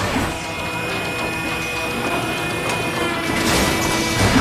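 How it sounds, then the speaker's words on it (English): Mechanical whirring and clanking of the SDF-1 anime spaceship's main gun systems powering up in Robotech, a dense, steady machine rumble with a sustained high tone and rising clatter near the end. "The defense system is activating the main guns to fire."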